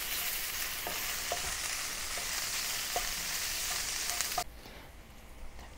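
Lamb stir-fried with cumin seeds, Xinjiang style, gives a steady loud sizzle with a few light spatula scrapes, then the hiss drops sharply near the end as the heat or stirring changes; no talking.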